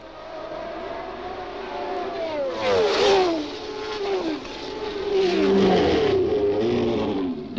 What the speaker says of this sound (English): The cars pull in.